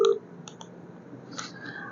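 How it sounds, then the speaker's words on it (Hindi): A phone line gives short electronic beeps and tones while a call is placed, faint and brief, with no voices. "बेल भी जा रही है जी।"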